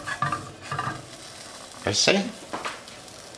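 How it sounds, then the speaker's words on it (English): Sausage sautéing in a pan for couscous, with a soft sizzle and scraping stir strokes near the mic, broken by short bursts of talk. "Now this I saute like this"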